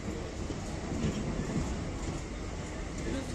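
A passenger train rolls past as a steady, continuous broadband rumble with no distinct beats, holding a fairly even loudness throughout.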